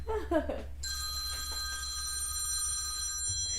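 Telephone ringing indoors during a live fashion craft session: a bright, sustained electronic ring that starts after a short burst of voice and laughter, then continues steadily with faint background sound.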